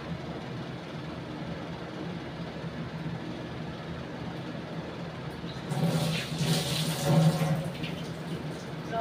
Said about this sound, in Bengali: যাতে একটু সিদ্ধ হবে সেই পরিমাণেই আমি জল দেবো